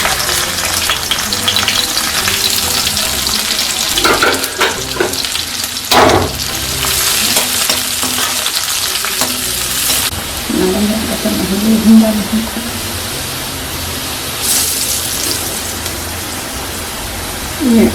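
Onions fry in a home kitchen pan for a masoor dal, a steady loud sizzle with scraping stirs and a few clatters of the spoon against the pan.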